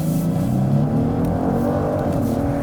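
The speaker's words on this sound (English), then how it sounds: "press the brake, foot on the throttle, burn some brake boost here" A 2023 Genesis G90 in Sport mode launches off the brake, its engine roaring loud and steady with dense layered harmonics throughout the short burst.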